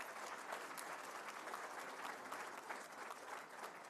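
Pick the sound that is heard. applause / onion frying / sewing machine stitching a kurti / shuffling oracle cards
applause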